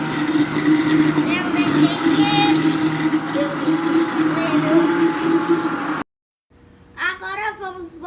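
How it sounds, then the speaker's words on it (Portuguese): Blender whirring through creamy cake batter made with flour and grated coconut, a steady loud motor drone for about six seconds that cuts off abruptly, followed by a short stretch of talk. "Agora vamos bater no liquidificador por 2 minutos."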